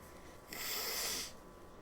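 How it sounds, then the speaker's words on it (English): A person with a cold or allergies blows their nose once, a loud, close, breathy honk lasting under a second, with no talk. "Hold on, blow my nose."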